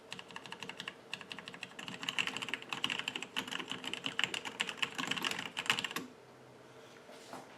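Rapid clacking of Logitech keyboard keys being typed on continuously for several seconds, close and clear, then stopping abruptly.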